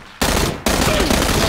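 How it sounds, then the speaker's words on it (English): Sustained automatic gunfire in the battle royale game PUBG, loud and continuous after a brief lull, with rapid bursts crowding the whole clip and no talk over it. "They're shooting us from the north."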